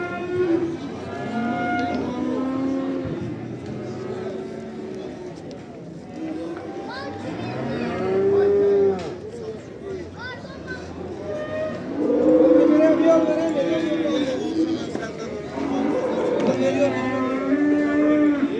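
Calves moo repeatedly at a busy livestock market, several drawn-out calls near and farther off over steady crowd chatter and talking voices.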